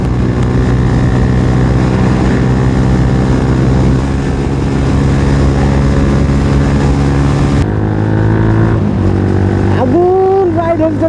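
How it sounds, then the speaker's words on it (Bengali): A Royal Enfield Classic 350 motorcycle at full throttle on a ride toward a bridge, a steady loud engine drone with wind noise close up, dipping briefly near the end as the pitch climbs again. "O classic 350 full throttle."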